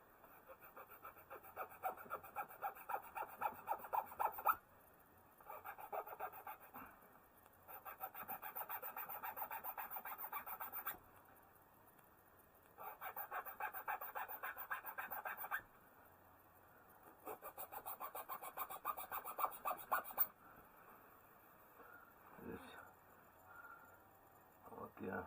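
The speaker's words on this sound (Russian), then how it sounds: "Теперь вот такой берем напильник и начинаем с двух сторон убирать." A metal hand file rasps across a wooden arrow nock, worked from both sides in several bursts of quick back-and-forth strokes separated by short pauses, close and fairly loud.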